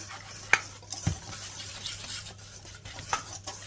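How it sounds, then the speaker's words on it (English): A whisk stirring dry ingredients for a Jamaican black fruit cake in a bowl, a quiet close scraping with a few sharp clinks against the bowl, no voices. "Then I'm going to use my whisk to combine all of those dry ingredients together."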